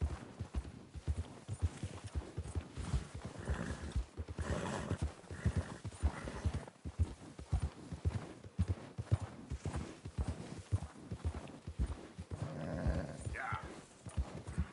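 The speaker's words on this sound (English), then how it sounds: "Oh, ran across horses." Horses in the video game Red Dead Redemption 2 clop along in steady hoofbeats, with occasional whinnies over a busy outdoor soundscape and no talking.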